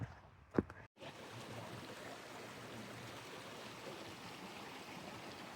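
Panther Creek rushing steadily along a forest trail near Clarkesville, Georgia, a continuous broadband wash of flowing water, fairly close and even throughout after a brief scuffing sound at the start.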